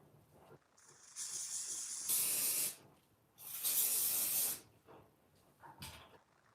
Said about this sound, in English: You go in with your holding spray.